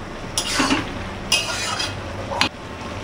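A utensil scrapes and stirs boiled peas in a pan in a few distinct strokes, with a soft sizzle in the background and no talking.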